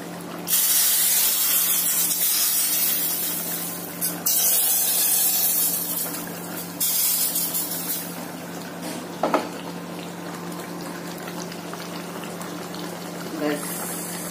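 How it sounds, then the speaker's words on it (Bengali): A hot spice tempering is poured into a tilapia fish curry and a vegetable dal, erupting in a loud, sustained sizzling hiss that gradually dies back to a softer simmer, with a couple of utensil knocks near the end. "ফোড়ন আমার রেডি, মাছের ঝোলে দেবো আর এদিকে ডালে দেবো।"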